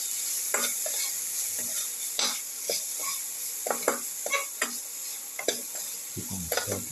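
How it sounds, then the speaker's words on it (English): Chili powder and turmeric powder sautéing in a pan, a soft steady sizzle broken by repeated scraping and clinking strokes of a spatula against the pan. "Keep on sauteing."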